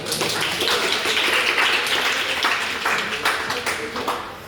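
An audience at a local-wisdom speech competition applauds a contestant with a dense, steady wash of clapping that lasts throughout and fades slightly toward the end.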